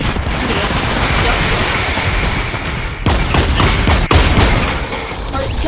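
Dense continuous gunfire in a Fortnite match, with a loud burst and impacts near the end, steady and loud throughout.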